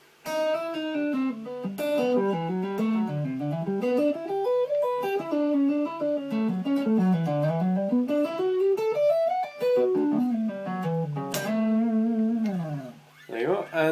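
Electric guitar playing a fusion lick slowly, a continuous legato line of sliding, smoothly connected notes rising and falling in wavy contours, played alone and up close.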